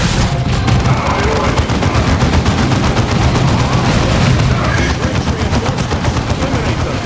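Tactical squad gunfire in Dawn of War II, a dense, loud, continuous stream of rapid shots with booming impacts underneath, sustained throughout.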